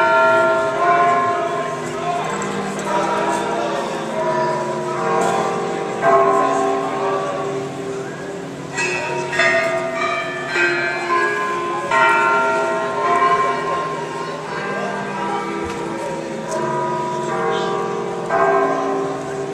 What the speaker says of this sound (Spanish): Las campanas de la catedral.